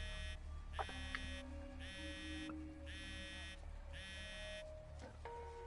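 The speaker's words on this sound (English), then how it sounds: "The phone doesn't care about his hunger and continues to vibrate" A phone vibrating in the video game GhostWire: Tokyo, a buzzing hum in repeated pulses about a second apart under a low background drone, with faint voices.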